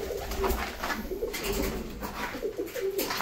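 Pigeons at a breeding farm coo in soft, repeated throaty calls, several birds overlapping close by in a steady, rolling rhythm with no talk.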